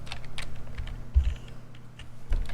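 Quick bursts of keystrokes on a computer keyboard while coding JavaScript, light irregular clicks close by with a few heavier taps, no talking.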